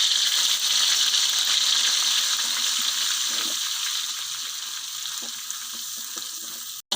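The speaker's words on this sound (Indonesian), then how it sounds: "Di sini kita goreng ikan teri yang telah kita haluskan" Ground anchovies (ikan teri) fry in a pan with a loud, continuous crackling sizzle that eases slightly toward the end, broken by a few soft clinks.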